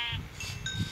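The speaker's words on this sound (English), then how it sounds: "Oh, let's kill a sheep." A sheep in a survival video game gives a short, close bleat, a single wavering call under a second long with no talk.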